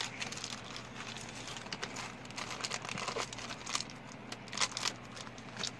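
Wrapper of a junk wax era trading card pack being carefully peeled and torn open, a steady close crinkling and crackling with small tearing bursts and no talk.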